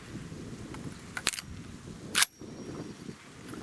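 Shells are loaded into a 20 gauge shotgun, giving two crisp metallic clicks about a second apart over a faint background hiss.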